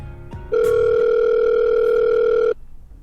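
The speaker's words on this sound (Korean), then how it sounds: "국토교통부로 제가 전화 한번 해볼게요" Outgoing telephone call to a government ministry office: a single loud, steady ringback tone of about two seconds, sounding alone after a brief quiet lead-in.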